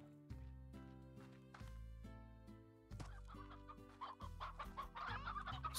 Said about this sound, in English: Stop making hens. Stop making roosters.